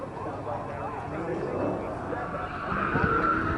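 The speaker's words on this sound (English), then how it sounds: "You can hear in the background, we've got drag racing going on today" Drag racing cars at a Dodge car show roar and whine in the distance, a steady wash of engine noise that rises near the end, heard under close outdoor speech.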